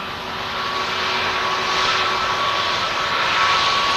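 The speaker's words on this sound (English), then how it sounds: "Have a listen to these beautiful Pratt & Whitney engines. You can really notice the distinct idle sound on them." Pratt & Whitney engines on an Airbus A321neo idle at an airport, giving a loud, steady whine and roar with a faint high tone that holds throughout, with no talk over it.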